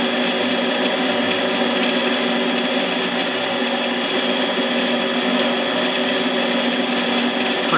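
Harbor Freight mini lathe machining a pop-up piston for a Husqvarna 372 chainsaw, giving a steady, close motor whine with a constant metallic hum that runs unbroken the whole time, with no talk.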